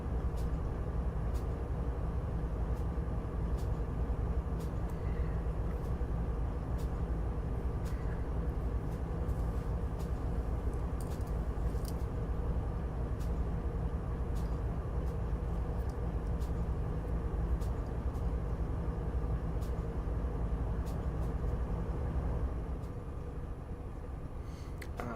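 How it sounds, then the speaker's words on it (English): A westbound ethanol freight train sits idling in a Train Sim game, giving off a steady, continuous low engine rumble with a faint high whine, holding even for a long stretch before easing slightly near the end. "So westbound ethanol train waiting to go."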